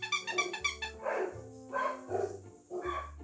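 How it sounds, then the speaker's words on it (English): A terrier-type dog named Winston barks indoors, several close yapping barks in an uneven series over a whining, squeaky tone at the start. "And it's a terrier type dog."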